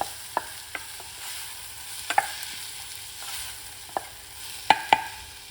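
Purple onions fry in a pan under a low, steady sizzle, with a dozen or so sharp, close clicks and scrapes of a utensil stirring them at an uneven pace.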